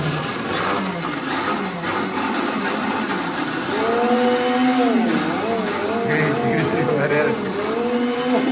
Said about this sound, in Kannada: ಮಿಕ್ಸರ್ ಸೆಕೆಂಡ್ ಹ್ಯಾಂಡ್ ಅದ, ಹಿಂಗಾಗಿ ಜಲ್ದಿ ಸಣ್ಣ ಆಗಲ್ಲ.